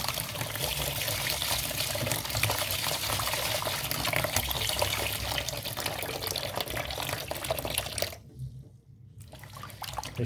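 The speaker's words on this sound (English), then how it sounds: "Put your water and then we wash our rice." Rice being washed by hand in a pot of water, a steady wet swishing and running-water wash that continues for about eight seconds, then stops abruptly before a brief quieter tail; no talking.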